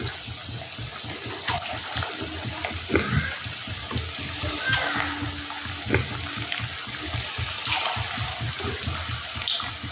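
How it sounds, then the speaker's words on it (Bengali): Cauliflower kofta balls frying in only mildly heated oil, giving a continuous sizzling, bubbling hiss with occasional louder pops and crackles. The frying is close-up, and no voices are heard. "এবার আমি কোপ্তাগুলো কিন্তু সব ছেড়ে দেবো, এক এক করে কোপ্তাগুলো দিয়ে দেবো।"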